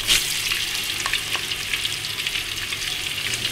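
Shrimp sautéing in hot oil for curry powder shrimp with egg, a constant close crackling sizzle with small spits and a few faint stirring scrapes, no voices.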